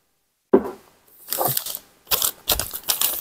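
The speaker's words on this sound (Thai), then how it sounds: "ทปกาว2หน้า" Double-sided adhesive tape is torn while making a kindergarten picture-sequencing game from foam board, giving a soft initial pull and then several short, raspy ripping bursts in quiet surroundings.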